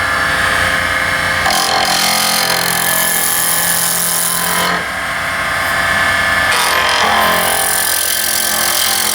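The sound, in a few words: wood lathe turning scalloped pen blank with chisel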